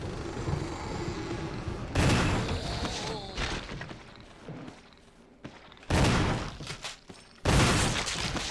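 A combat shotgun fires in a Resident Evil game, three loud, separate blasts spaced a few seconds apart, each with a short booming tail, with game sounds and some talk between them.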